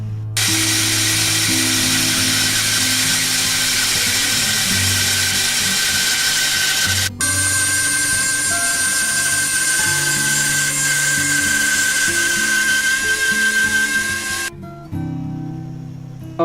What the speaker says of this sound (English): I'm going to cut it here along where I've sort of drawn with pencil